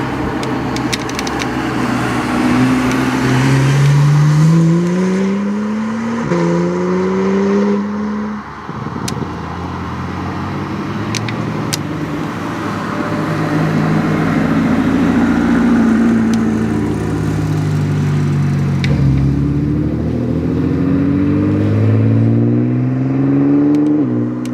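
Supercars race around the Curborough sprint course, engines loud and close, with repeated rising gear-by-gear revving sweeps as cars accelerate past, a brief lift-off midway, then more climbing runs.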